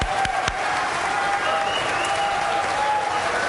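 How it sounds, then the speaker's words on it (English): Audience applause at the close of a candidates' debate, a dense, steady roar of clapping from a crowd, with faint voices and brief cheers mixed underneath throughout. "And yes, now we can applaud."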